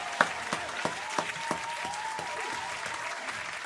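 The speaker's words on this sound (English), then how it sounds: "Round of applause to them," A crowd applauds with steady, dense clapping and a few sharper claps standing out near the start. The clapping stays fairly even in loudness throughout.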